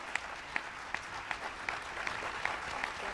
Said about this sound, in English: Give these extraordinary women one more big round of applause.